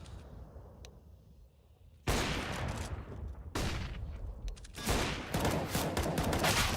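Gunfire in Counter-Strike: Global Offensive during a competitive match, with several sudden loud bursts of rapid shots after a quieter stretch, each dense volley cutting in sharply and the exchange growing busier toward the end.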